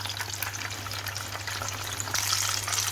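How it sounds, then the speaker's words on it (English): Chicken drumsticks frying in hot oil, a steady close crackling sizzle with dense popping that grows slightly louder and brighter near the end. "turn it over now and again so it gets fried equally on each side"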